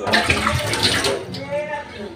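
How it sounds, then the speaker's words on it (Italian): Old water glugs and splashes as it is poured out of a bottle, a continuous close pouring rush that fades slightly toward the end. "adesso tolgo l'acqua che c'era da ieri"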